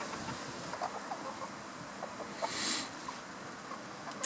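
Hens in a backyard flock, one of them aggressive, cluck in soft scattered bursts over a faint noisy background, with a brief louder rustle near the end.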